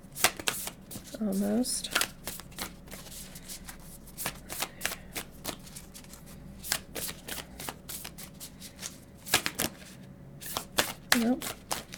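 A deck of oracle cards is shuffled by hand in repeated quick riffling bursts and soft slaps, close and crisp, while someone speaks intermittently between the shuffles.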